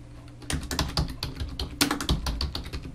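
Quick bursts of typing on a computer keyboard, with close, soft, irregular key clicks that come in clusters, no voices.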